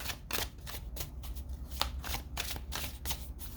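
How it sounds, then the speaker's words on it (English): A deck of oracle cards is riffled and shuffled by hand in close, repeated bursts of crisp flapping and rustling, steady and unaccompanied. "I'm going to shuffle a little bit more."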